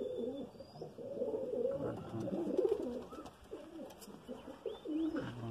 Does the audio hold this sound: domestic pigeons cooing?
yes